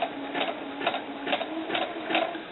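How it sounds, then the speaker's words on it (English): A sewing machine set to a longer stitch sews doll sun dress fabric in a steady rhythmic chatter of evenly spaced pulses, close and moderately loud with no talk. "I'm going to try a bigger stitch. See if my feeder feet will help me a little more."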